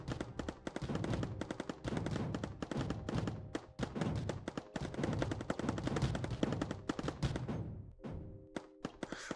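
Turrets in the Mindustry video game fire rapid bursts at enemy units, a dense chattering barrage of gunfire with thuds mixed in that ends with a few isolated shots.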